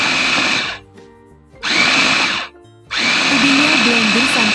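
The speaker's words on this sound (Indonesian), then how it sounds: "Ubinya blender sampai benar-benar halus" A blender pureeing purple sweet potato whirs loudly in three long bursts separated by short pauses, the motor pitch steady and close.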